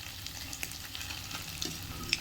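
Pakoras fry in oil in a pan as they are turned over, giving a soft, continuous crackle and sizzle with a few faint clicks from the utensil, all quiet and unbroken.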